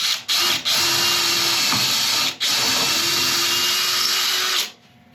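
A power drill with an 8mm bit runs loud and steady for about four seconds, briefly pausing twice early on, then winds down to quiet at the end.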